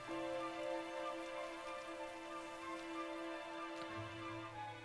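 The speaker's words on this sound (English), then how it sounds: "Typical, it'd have to go and start raining, wouldn't it?" Steady rain falls in the video game Dragon Quest XI, a continuous soft hiss of drops under a layer of sustained in-game music tones, with no talking.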